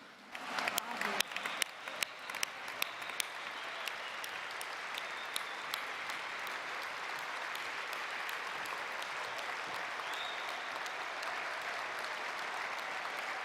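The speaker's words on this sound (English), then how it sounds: "Please stand up if you are a refugee or a helper, so that we can applaud you." A gathering honouring refugees and their helpers breaks into sustained audience applause, beginning with a few distinct loud claps before settling into a long, even roar of many hands that carries on for over ten seconds.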